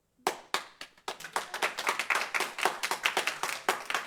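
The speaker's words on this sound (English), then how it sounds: "Please don't clap." Several people clapping at a council meeting, starting with a few sharp single claps and building into a quick, dense, uneven patter of close hand claps lasting about four seconds.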